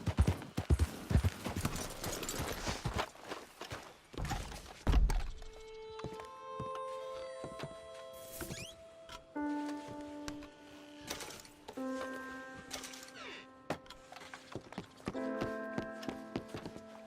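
Horse hooves clip-clopping in Red Dead Redemption 2, a steady walking rhythm up close over the game's background music with occasional tonal notes, busier and denser at the start before settling into an even gait.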